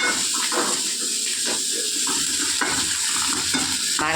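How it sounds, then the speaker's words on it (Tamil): Onion sautéing with tomato in a pan for a green tomato chutney: loud close sizzle with rhythmic spatula strokes scraping through it every half second or so, no speech. "இங்கே தக்காளி வச்சு வெங்காயம் வதங்குது"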